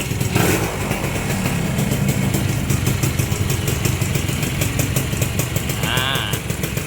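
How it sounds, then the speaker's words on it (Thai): A Honda Tena motorcycle idles close by with an even, rapid pulsing putter and light mechanical clatter, steady throughout, with a faint short chirp partway in. "เครื่องยนต์เงียบกิ๊บได้ยินแต่เสียงคาบู"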